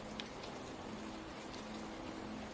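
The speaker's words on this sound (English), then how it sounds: "Raindrops continue their slow paths from leaf to leaf." Rain in a rainforest drips from leaf to leaf, a soft steady patter with a few distinct drops over a quiet wash of falling water.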